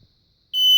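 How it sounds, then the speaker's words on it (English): After near silence, a piercing smoke alarm suddenly blares, loud and shrill, continuing steadily to the end. "one of these nice loud alarms, when it goes off, it's really loud"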